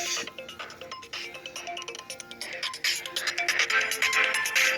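A mobile phone rings with an incoming call beside the water on a carp fishing outing, a repeating melodic ringtone sounding clearly and steadily throughout.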